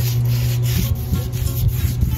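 Yacht varnish is brushed onto a homemade wooden planter, giving a close, continuous rubbing and scraping sound with a steady rhythm of strokes under a constant low hum.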